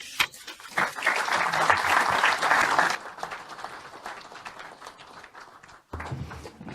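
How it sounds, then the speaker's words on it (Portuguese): An audience applauding steadily after a lecture, loud and dense at first, then thinning out with scattered claps before fading. "as palmas a que tem direito"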